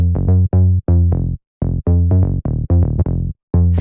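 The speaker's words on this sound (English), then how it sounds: "It's called Bass Bad Joke. It sounds like this." A punchy synth bass preset from a tech house sound pack plays alone in a choppy rhythmic pattern of short and medium stabs separated by brief gaps. The tone is loud, deep and buzzy.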